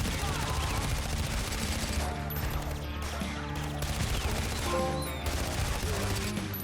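Rapid bursts of automatic gunfire fired from a vehicle in the video game Far Cry 4, dense and sustained with short pauses, over engine rumble and game music.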